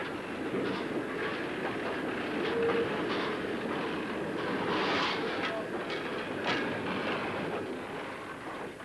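Steam locomotive number 1000 moving off from a cleaned former steam shed area on the Manchester to Bury line, a steady rumbling rail noise with faint rhythmic clicks, continuous and moderately loud throughout.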